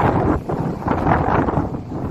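Strong wind rushes and buffets the microphone in a continuous low roar on a cruise ship's forward deck, loud and close, with no voices.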